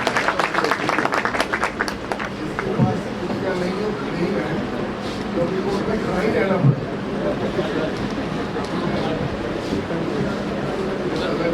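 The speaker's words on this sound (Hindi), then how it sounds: "ऑनरेबल सेक्रेटरी बात तालियां बजा के स्वागत कीजिए।" An audience at a Bar Council of Delhi enrolment meeting claps in a hall to welcome the honorable secretary. The applause is loud and continuous, with voices mixed in.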